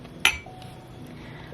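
Brown transferware dishes give one sharp, bright clink as they touch, followed by quiet room tone.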